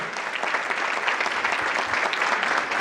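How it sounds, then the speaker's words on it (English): A dinner audience applauds a speaker with steady, dense clapping that fills the room throughout, with no voices over it. "Another round of applause for Farhana."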